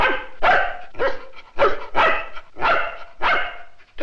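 A dog barks repeatedly and close by, about eight sharp barks in an uneven rhythm with short gaps, loud and alone with no talking.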